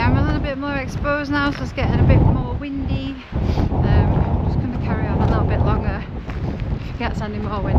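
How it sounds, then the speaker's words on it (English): Wind buffets a microphone on an exposed hillside glen, a loud, rumbling gusty roar running throughout beneath a person talking. "I'm a little bit more exposed now, so it's getting a bit more windy"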